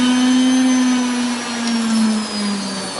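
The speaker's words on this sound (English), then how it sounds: "let's go ahead and hit this on the grinder" A bench grinder whines loudly as scrap brass is pressed against it on a cold winter day, a steady high tonal drone that sags slightly in pitch under load, close and unaccompanied by speech.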